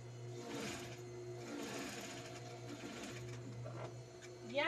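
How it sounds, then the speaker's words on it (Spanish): A sewing machine stitching the face of a squirrel plush toy, a steady close whirring hum with a faint needle rhythm, running continuously and speeding up briefly at the end. "Y voy a coser la carita de una vez"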